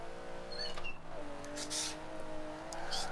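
Game engine note of a Charger muscle car in Forza Horizon 4, a steady sustained drone with rising and shifting harmonic tones, close and continuous, with light high bursts overhead.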